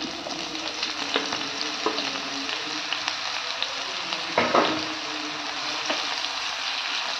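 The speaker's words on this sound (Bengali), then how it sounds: "তেল আমার গরম হয়ে গেছে, এবার আমি বেগুনগুলো ভেজে নিচ্ছি।" Eggplant slices frying in hot oil, giving a steady, close sizzling hiss with a few faint clicks and pops and one slightly louder burst partway through, heard with no voices.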